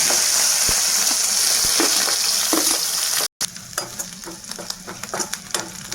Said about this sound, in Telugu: ఇందులోనే ఎండలు కూడా వేపిస్తున్నామండి